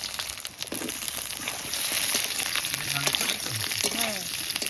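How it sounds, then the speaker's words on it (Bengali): Brinjal frying in hot mustard oil in a wok: a loud, steady, dense sizzle right up close that continues throughout, with faint voices in the background. "ফার্স্টেই তেলের মধ্যে বেগুনগুলো দিয়ে ভালো করে ভেজে নেব।"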